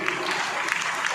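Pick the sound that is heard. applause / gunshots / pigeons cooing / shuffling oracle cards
applause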